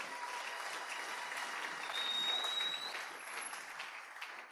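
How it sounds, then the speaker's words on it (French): A church congregation applauds together, a soft, even wash of clapping at a distance that swells slightly midway and then tapers off. "Oh, acclamons cette parole."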